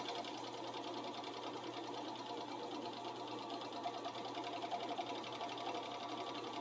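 A sewing machine stitches a belt loop, its needle running in a fast, steady, even chatter that continues unbroken at low volume.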